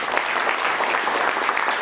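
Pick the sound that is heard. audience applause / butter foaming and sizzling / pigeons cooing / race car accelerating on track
audience applause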